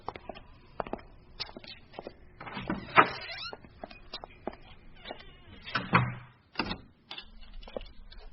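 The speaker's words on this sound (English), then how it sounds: "Why are you locking that?" An indoor door handled with a few scattered knocks and clunks, including a louder thud near the middle and another later, consistent with a door being shut and locked; quiet room with faint background.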